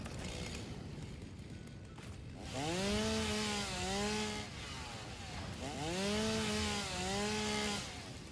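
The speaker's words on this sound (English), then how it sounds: "Oh, I have my chainsaw on me." A chainsaw in the factory-building game Satisfactory revs up in two long, wavering bursts, its pitch bending up and down, with a steady mechanical hum between them and no talk.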